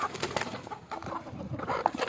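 Free-range country chickens cluck and chatter at evening feeding, with several birds making overlapping short calls close by in an outdoor yard.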